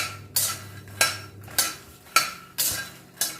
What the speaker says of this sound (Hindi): इसको क्रिस्पी होने तक हम भून लेंगे